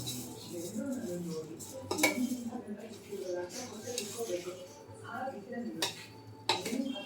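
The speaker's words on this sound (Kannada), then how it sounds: "ಇದಿಷ್ಟು ಹಾಕಿ ಒಂದ್ಸಲ ಮಿಕ್ಸ್ ಮಾಡ್ಕೋಬೇಕು" Mango pickle being mixed with salt in a bowl, with soft clinks and scrapes of a spoon against the dish under a person talking throughout.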